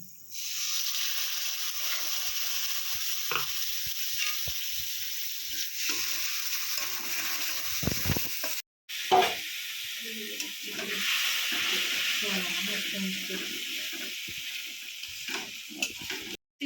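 Spice masala for vegetarian chana paneer fries and gets stirred in a pan, a loud close sizzle with scraping stir strokes and a brief break midway, a faint voice now and then.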